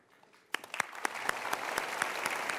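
A studio audience starts clapping after a quiet moment, a few sharp individual claps first, then building into a steady, moderate round of applause.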